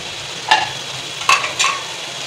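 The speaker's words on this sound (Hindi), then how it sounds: "अच्छे से मिक्स करेंगे" Samosa filling with spices being stirred in a pan: a low sizzle runs throughout, broken by three distinct scraping strokes of a utensil, close and fairly loud, with no talking.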